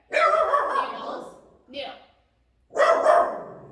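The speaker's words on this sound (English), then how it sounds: "Excuse the dog barking." A dog barking indoors nearby, two loud drawn-out barks with a short yip between them, clear and close.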